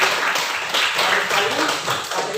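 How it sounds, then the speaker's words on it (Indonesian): A class of students applauds, a dense, bright patter of many hands clapping at once. It stays steady and fairly loud through the whole moment, with no talk over it. "Oke, tepuk tangan untuk"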